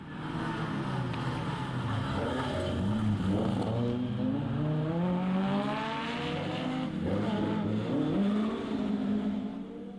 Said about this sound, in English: And so far so good for Julian Wilkes with the new John Reed engine